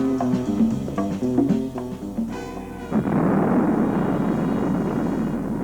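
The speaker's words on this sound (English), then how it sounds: "Dwight, what are those explosions?" Muffled explosions as soldiers blow up buildings, a series of rumbling blasts in quick succession followed by a sustained roar and crackle.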